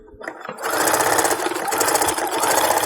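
A sewing machine stitches fabric for a Christmas stocking, starting after a brief moment of handling and then running in a steady, close, buzzing rhythm to the end.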